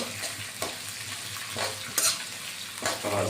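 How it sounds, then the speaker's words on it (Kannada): Chillies sizzle in hot oil in a tempering for lemon rice, with a steady frying hiss broken by several louder bursts of stirring. The sound is close and there is no talk. "ಈಗಿನ ಸ್ವಲ್ಪ ಫ್ರೈ ಮಾಡ್ಕೋಬೇಕು"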